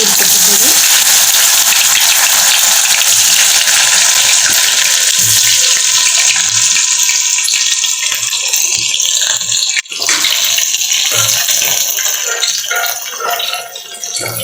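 Soya chunks (meal maker) fry in hot oil for soya 65, giving a loud, dense, continuous sizzle and crackle that stays steady throughout, easing slightly toward the end.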